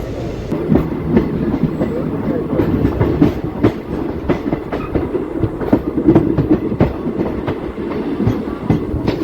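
A DEMU passenger train runs on rails between Linganenidoddi and Pendekallu Junction, a steady loud rumble of carriage and wheel noise with rhythmic clickety-clack beats throughout, heard from inside the coach.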